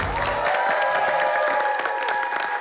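Studio audience applause on a Thai agricultural TV show, welcoming a female chef: dense clapping with a few cheers, fairly loud and continuous over two and a half seconds.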